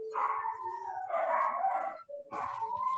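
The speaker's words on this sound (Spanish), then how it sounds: "Federico, son perros." Dogs howl and bark continuously nearby, with drawn-out wavering howls that break off and resume, and no talking over them.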